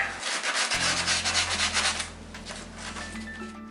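Sandpaper scrubs steadily across the surface of a model airplane part, roughing it up during assembly of a Sky Trainer Cessna 182; a close, continuous rasping rub with no talking.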